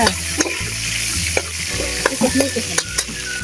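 Garlic and onion fry and sizzle in a pan, the hiss steady and close while a utensil stirs with scattered clicks and scrapes.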